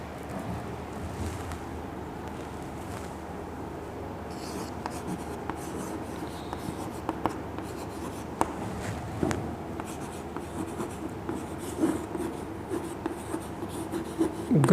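Marker or chalk scratches and taps on a lecture board, a continuous run of short strokes and small knocks at close range with no talking over them.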